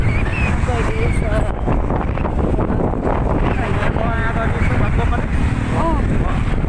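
Strong wind gusting across an open outdoor area, heavy buffeting rumble against the microphone throughout, with people talking loudly over it.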